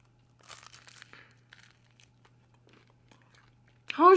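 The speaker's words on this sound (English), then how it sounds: "overnight fried chicken shouldn't be this crunchy" Quiet, close crunching bites of leftover overnight fried chicken come in a few soft bursts, crisp and crackly, followed by a sudden louder vocal exclamation at the end.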